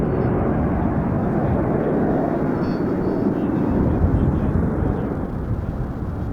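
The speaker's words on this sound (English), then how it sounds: "now from the left we have the soloist coming in for his first manoeuvre, which will be a 4-point hesitation roll" Frecce Tricolori solo jet flies a four-point hesitation roll at an air show, a loud, steady broadband jet roar that holds for several seconds with no break.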